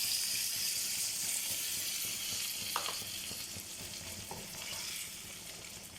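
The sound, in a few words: tamarind water added to frying okra gravy, stirring and sizzling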